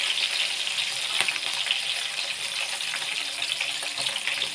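Onions fry in hot oil with a steady, close, hissing sizzle that stays even and unbroken from start to finish.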